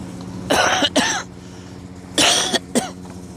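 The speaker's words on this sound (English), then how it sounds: "I've had this smoker's cough for 30 years" A man with a long-standing smoker's cough hacks twice in quick succession, pauses, then coughs twice more, each burst harsh and raspy, heard close and alone against faint outdoor street background.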